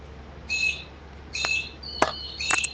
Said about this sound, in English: You hear all the birds.